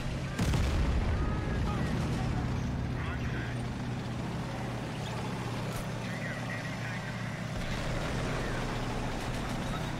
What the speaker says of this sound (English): I'll call in the artillery further in.